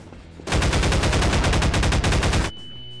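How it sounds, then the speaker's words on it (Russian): Bomb explosions in the game Garry's Mod come through as a loud, dense two-second barrage of rapid cracking blasts that stop suddenly, leaving a quieter background. "Бум, вот это взрыв."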